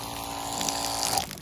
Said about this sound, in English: Because it's a piston pump. So it's actually little spurts of water, not just a stream.